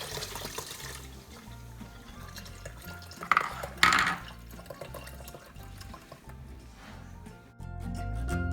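Blended rice and cinnamon horchata poured through a strainer into a jar, a steady liquid trickle and splash with a brief louder gush midway, close and fairly quiet.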